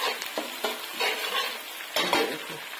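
Ground coriander and chili paste frying in a pan, a close, bright sizzle broken by rhythmic scraping strokes of a spoon stirring through it, with no voices.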